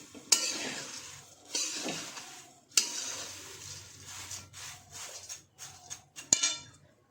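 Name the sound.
papad roasting in a pan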